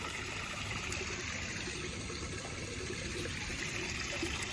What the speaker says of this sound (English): Gonna water them a little bit.